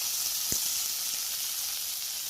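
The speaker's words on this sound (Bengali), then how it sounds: "কেননা উস্তাটাও আমি একটু ভেজে নেব" Bitter gourd (ustha) pieces fry in a pan with salt and turmeric for a Bengali karela aloo jhol, giving a steady, close, bright sizzle throughout, with one soft knock near the start and no talking.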